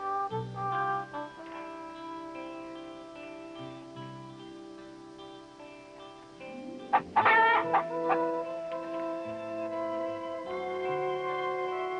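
A chicken clucking and crowing in a farmyard setting, with steady harmonic clucks building to a loud burst of flustered squawks midway before settling again; no talk.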